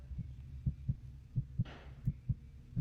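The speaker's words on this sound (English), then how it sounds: "You can hear her heartbeat pounding." A pounding heartbeat thumps in a steady, fairly quick rhythm of low, muffled beats, close and prominent over a quiet hum, with a short rustling burst in the middle.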